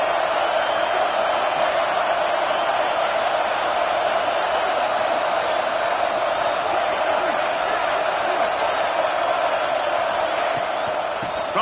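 Steady roar of a football stadium crowd on fourth down during Vanderbilt vs Oklahoma State, loud and sustained for the whole stretch with a broadcast commentator talking over it.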